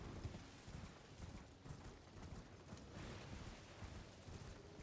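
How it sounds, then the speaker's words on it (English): Horse hooves clip-clop steadily in a video game as the rider sets off, a continuous, moderately quiet trotting rhythm layered over ambient game noise with no talking. "Time to get on the horse."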